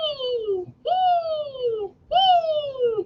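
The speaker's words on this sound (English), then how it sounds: "I can hear the Cooper Hawks outside." Cooper's hawks call outside: three drawn-out, falling squawks in a row, each about a second long, clear and fairly close, with short gaps between them.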